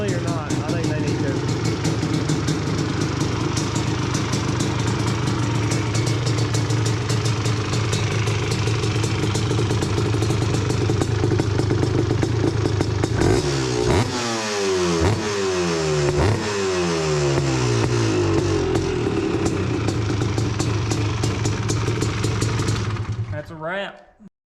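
A Honda TRX250R two-stroke ATV engine idles steadily and close for over twenty seconds, its buzzing drone briefly rising and falling with a few throttle blips near the middle before cutting off at the end.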